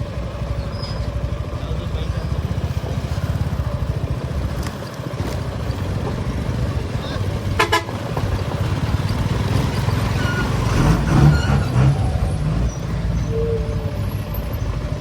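A motorcycle labours along a rough mountain road toward Mustang, its engine a steady loud drone with wind rush and occasional rattles over bumps, continuous throughout.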